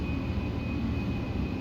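A vehicle backing up outside gives a steady, muffled engine rumble with a thin, constant high tone running over it, heard at a distance.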